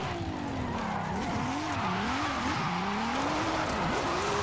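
A Jaguar XKR-S GT in Forza Horizon 5 revs hard, its engine pitch climbing and dipping through gear changes, with tire skidding and squealing mixed in as the car slides, loud and continuous.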